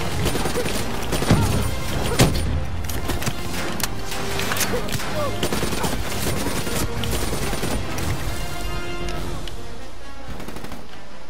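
Machine gun fire in Call of Duty: Black Ops 3, a dense continuous battle din of rapid automatic bursts and scattered booms at a steady loud level, with voices partly mixed in.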